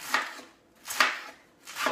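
A knife slices through crisp organic romaine lettuce on a board in three separate, fairly close cuts, each a short crunchy swish spaced about a second apart.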